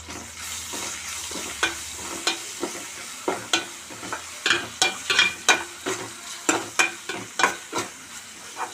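Ingredients for a ridge gourd, coconut and chana dal masala frying in a pan: a constant sizzle punctuated by regular, rhythmic scrapes of a spatula stirring, close and clear without speech.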